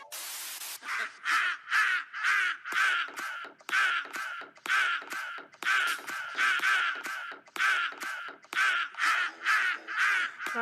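Crow cawing repeatedly, loud harsh calls in rapid bursts of three to four, with short pauses between groups, close and alone for about ten seconds.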